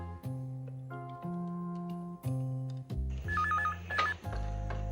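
A telephone rings during a phone call in an Indian television sitcom, a few steady electronic ring tones under a layered background with no speech.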